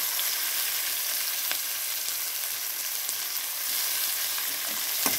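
Onions and tomato fry in a pan for a masala brinjal curry, giving a steady, close, even sizzle that runs throughout with no talking.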